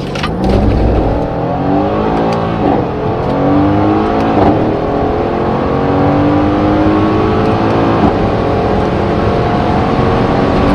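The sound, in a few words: Mercedes C63 S AMG 2016 accelerating in manual mode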